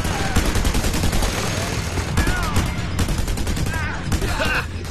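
Dense, continuous gunfire from a gun turret in the video game Just Cause 2, rapid fusillade shots layered with explosions, loud throughout, with voices shouting over the din.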